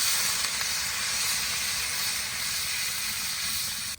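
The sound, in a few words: water poured onto fried potatoes in the pan, hissing steam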